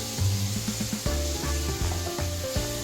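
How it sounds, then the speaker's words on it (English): Meatballs dropped into a pan of onions and turmeric on a low burner, crackling and sizzling close up with repeated soft thuds and scraping as they land and settle. "Turn your burner on low and place in your meatballs."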